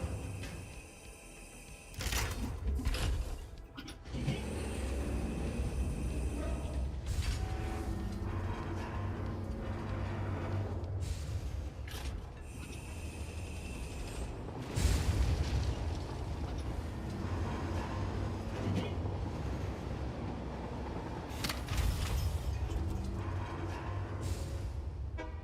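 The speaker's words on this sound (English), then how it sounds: "we might as well take a trip on the train, I suppose" Riding a train in the factory-building video game Satisfactory: a steady low mechanical rumble with clanks, whooshes and shifting tonal hums over about twenty-five seconds, dense and continuous without speech.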